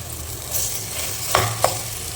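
Potatoes frying in hot oil for a masala while being stirred, giving a steady close sizzle with a couple of sharp scraping clinks from the spoon near the end.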